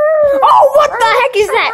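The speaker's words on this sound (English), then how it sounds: "Sorry, that was my dog" A dog howls in a long, wavering, sustained tone that rises and falls for nearly two seconds, close and loud, while a person talks over it.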